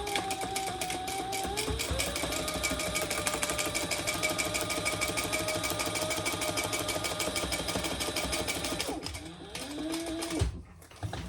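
A sewing machine top-stitches a fabric sling bag, running in a steady, fast mechanical whir for about nine seconds before it stops, with a few handling sounds after.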